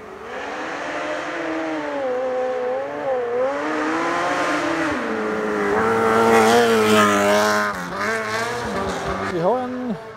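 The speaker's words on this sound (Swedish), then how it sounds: "det var någon som hade en sidovagnsracer där med en Hayabusa-motor på?" Sidecar racer powered by a Suzuki Hayabusa engine, its high revving whine rising and falling steadily across the whole stretch, loud and fairly close, with people talking over it.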